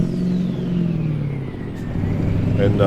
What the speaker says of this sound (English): rev up my engine, take out my frustrations on the engine